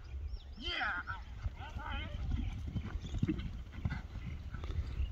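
Horses running in a race, with rapid clip-clop hoofbeats under loud crowd chatter and shouting, and a horse whinnying briefly near the start.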